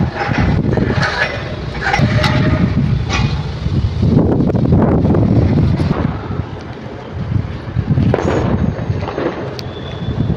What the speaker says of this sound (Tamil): பயங்கரமாக காற்று ஃப்ரெண்ட்ஸ். மழை காற்று